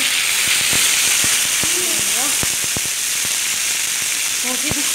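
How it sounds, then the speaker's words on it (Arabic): Food sizzles loudly in very hot oil, a steady close hiss broken by sharp pops and spits scattered throughout, while a voice speaks over it. "ونزيد نحطهم كيما هما هكا ونحطهم مباشرة في الزيت"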